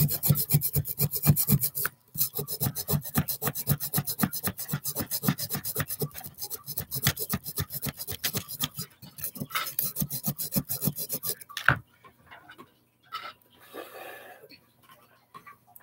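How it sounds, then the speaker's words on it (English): Hand sawing into a plaster block from a children's crystal mining kit, a rapid rasping back-and-forth stroke that is close and continuous for about twelve seconds, then stops, leaving brief faint scraping. "Keep sawing, boys."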